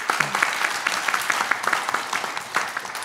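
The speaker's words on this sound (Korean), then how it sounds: "박수 한번 보내시기 바랍니다" A crowd at a religious leaders' political forum held at the National Assembly applauds with dense, steady clapping, loud and sustained, with a few voices faintly underneath.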